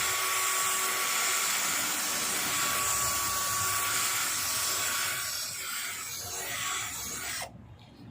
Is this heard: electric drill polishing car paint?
yes